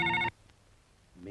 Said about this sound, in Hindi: आपके लिए फोन आपके लिए।